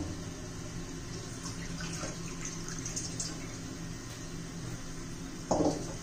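Water poured from a glass into a covered pot of browned mutton masala, a steady watery rush over low kitchen background noise, ending in a short louder splash near the close.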